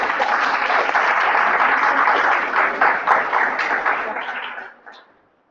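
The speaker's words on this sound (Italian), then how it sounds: "Di nuovo, un applauso." Audience applauding at a tourism workshop, a full burst of clapping held steady for several seconds before thinning out and fading to silence.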